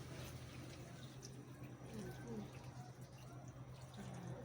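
A glass of water poured into a cooking pot in a home kitchen, a faint running splash and trickle held steadily under a low hum, with someone speaking over it.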